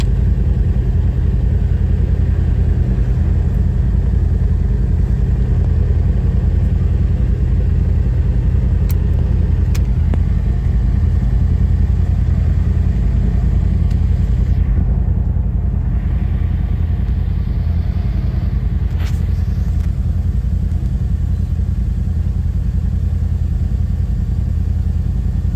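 Off-road vehicle with lockers powering its tire up over a fallen tree on a wooded trail: a loud, steady engine rumble that holds for the whole stretch, with no talk.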